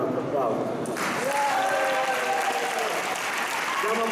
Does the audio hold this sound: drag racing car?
no